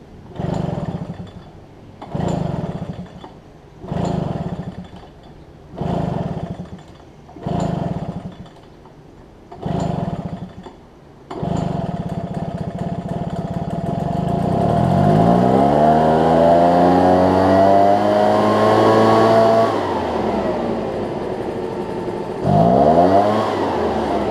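A Husqvarna backpack leaf blower's small two-stroke engine sputters through about six failed pull-start attempts, then catches and runs loud and close, revving up and down with a rising whine before dropping and surging again.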